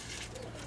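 A pigeon gives a soft, low coo, faint and brief against a quiet background.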